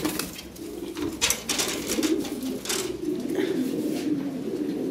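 Lahori Sirazi pigeons cooing inside a loft, soft repeated low coos close by, with a few brief wing flaps and a light rustling background.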